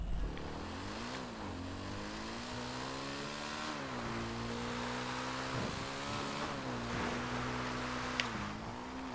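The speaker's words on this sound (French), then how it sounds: "j'ai appuyé qu'une seule fois sur mon accélérateur" A video-game motorbike engine revving with a steady harmonic drone that rises and dips in pitch as the throttle changes, loud and continuous, with a brief sharp click near the end.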